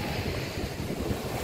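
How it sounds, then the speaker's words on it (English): Ocean waves crash and surge at a beach, a steady close wash of surf with heavy wind noise buffeting the microphone throughout. "You're gonna fall in the water. The waves are too big for you"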